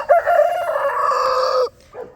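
A rooster crows loudly and close on a farm with many chickens, one long sustained call followed by a brief softer cluck, with no talking.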